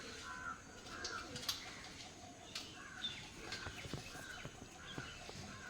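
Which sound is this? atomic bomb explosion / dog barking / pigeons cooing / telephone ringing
pigeons cooing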